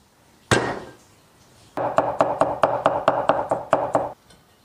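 A knife minces ginger and garlic on a board: one heavy thud, then about a dozen quick, evenly spaced, loud chopping strikes close up, with no talking.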